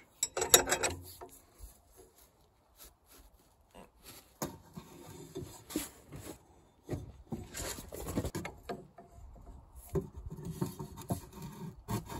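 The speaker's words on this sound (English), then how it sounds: "So I'm going to hang off that wrench." Wrench straining on the crank bolt of a seized Leyland tractor engine, giving scattered metallic rasps, creaks and grinding scrapes in irregular bursts, close by with no talk.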